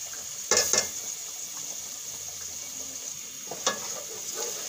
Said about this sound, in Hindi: टमाटर डालने के बाद इस मसाले को हम अच्छी तरह से भून लेंगे।